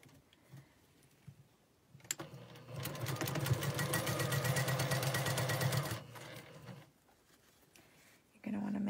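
Sewing machine stitching across a quilt block, a steady rapid run of needle clatter for several seconds, close and fairly loud, with someone speaking before and after.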